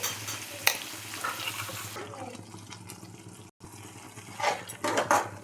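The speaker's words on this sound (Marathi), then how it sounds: "छान परतून घ्यायचं आपल्याला, हलवून घ्यायचं" Chole masala being stirred and sautéed in a pan gives close scraping, a faint sizzle, and a few louder clanks of the spoon against the pan, with a short gap midway.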